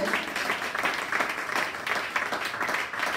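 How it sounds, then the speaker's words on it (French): A church congregation applauding, a steady wash of clapping from many hands at moderate level, with faint voices mixed in. "acclame très fort pour ce témoignage"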